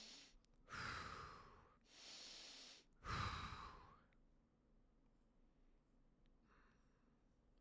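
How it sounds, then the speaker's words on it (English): Heavy breaths rush close into a microphone in a quiet room: two long, loud exhales a couple of seconds apart, a shorter breath between them, then near silence with a faint sound near the end. "You like my heavy breathing?"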